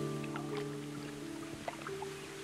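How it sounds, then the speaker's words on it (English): Water sloshes faintly around a fountain in the Sherlock Holmes: Crimes & Punishment video game, a soft watery lapping over a steady low ambient hum. "That water sounds sloppy."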